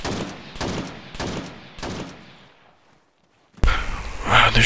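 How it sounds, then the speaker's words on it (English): Gunfire from the ArmA 3 video game comes as four sharp shots spaced about half a second apart. A brief silence follows, then a louder muffled burst of noise. "Wow, they're shooting many rounds."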